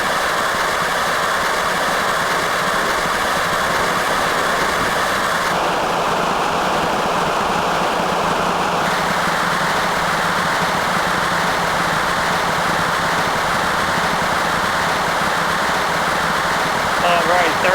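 Starship Super Heavy Raptor engines roar at launch in a Kerbal Space Program recreation, a loud, steady broadband rumble with a sustained tonal whine that briefly dips midway, with no pauses.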